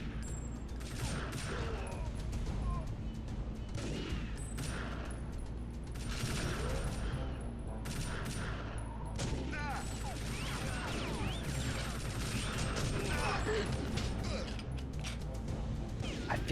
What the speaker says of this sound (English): No idea where these shots are coming from.